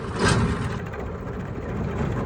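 A tractor engine runs steadily close by on a farm during the straw season, a continuous low rumble with a slight swell near the start and no voices.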